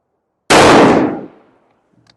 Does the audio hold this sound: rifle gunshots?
yes